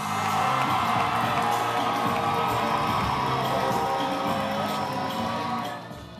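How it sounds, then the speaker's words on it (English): A loud audience cheers and whoops in a sustained roar for a contestant at the GMB 2021 grand finale pageant in Ghana. The noise fades slightly near the end. "welcome with a round of applause our first contestant for this round, Manu from the Western Region."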